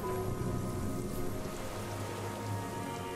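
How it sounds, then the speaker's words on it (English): Steady cold rain pours over a city of tall towers at night in Disco Elysium, a dense, even hiss with a low rumbling bed, continuous and fairly loud throughout with no voices. "cold rain falls on 40-story towers"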